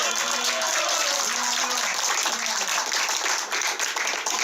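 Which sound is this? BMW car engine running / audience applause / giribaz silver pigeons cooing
audience applause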